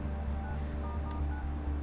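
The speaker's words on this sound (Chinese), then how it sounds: "还是得打电话问一问。" A telephone gives a steady, even run of dialing tones, moderately loud over a low hum.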